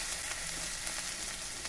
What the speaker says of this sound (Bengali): এখানে পটল ভাজার তেলে আমি শাকের ফোড়ন দিয়ে দেবো।